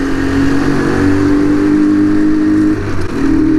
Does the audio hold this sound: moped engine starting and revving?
yes